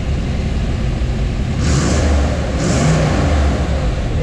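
A 1962 Fuelie car engine idles steadily up close while warming up after a cold start, with two brief rises in revs breaking the even rumble; no voices.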